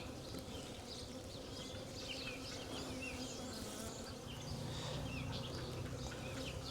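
A massive honey bee swarm hums continuously at close range, dense overlapping buzzing with individual bees flying past, steady and fairly faint with no talk.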